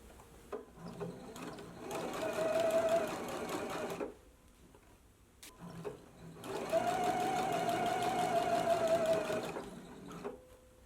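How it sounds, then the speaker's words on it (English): A sewing machine stitches a fabric ruffle along a gathering line at the lower edge of a dress, running in two steady bursts of about two and three seconds with a short pause and soft handling noises between them. "we're going to stitch right along this gathering line that we did"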